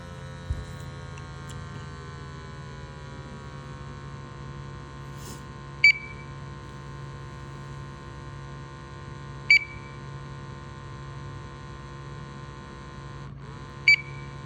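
A portable gas monitor with a built-in pump, giving a steady electrical hum and whir while it draws in a sample, broken by three short beeps spaced a few seconds apart.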